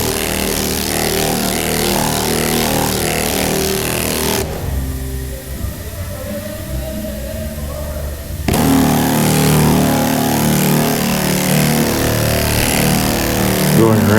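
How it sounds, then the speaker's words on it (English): A sander works bondo body filler on the body of a 1968 Camaro, a loud, steady close-up whir and grind that cuts out for a few seconds mid-stretch before resuming just as strong. "I'm rolling the sander over the crown that I don't want to lose"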